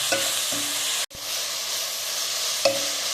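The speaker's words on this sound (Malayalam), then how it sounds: "ഇതെല്ലാം കൂടി നന്നായിട്ടൊന്ന് ആ തക്കാളിക്കൊന്ന് വെന്ത് സോഫ്റ്റായിട്ട് വരട്ടെ" Onions and tomatoes sizzle loudly in a hot pan for a Kerala chicken perattu, with a steady frying hiss, a brief cut near the second mark, and occasional scrapes and clinks of stirring, and no talking.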